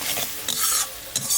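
Spices with crab being stir-fried in a pan, loud close scraping strokes of a spatula over a bright sizzle, several quick rubs in a short burst without speech.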